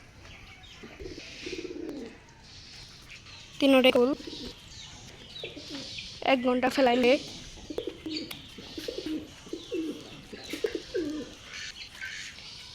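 Pigeons including black ones on a farm coo in low, rolling calls, with several stronger bursts standing out near the middle, while someone talks intermittently over and between them.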